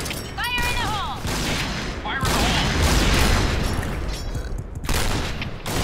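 Grenade explosions and rapid gunfire from the Point Blank shooter game, a dense continuous barrage of booms and shots throughout, with brief chirping game effects early on.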